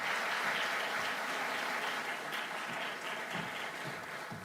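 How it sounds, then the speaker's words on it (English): An audience gives sustained applause for His Excellency at a formal event, a steady wash of many hands clapping at moderate distance that eases slightly toward the end. "A warm, big round of applause for His Excellency."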